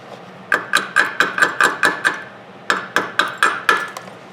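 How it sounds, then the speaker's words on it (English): A chipping hammer knocks flux off a fresh stick weld made with cheap welding rod on scrap metal: two bursts of sharp metallic taps, about eight then five, close and evenly paced. "So far, flux pops off about the same."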